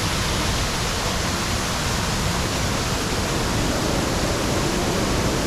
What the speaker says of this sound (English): Still got a waterfall coming.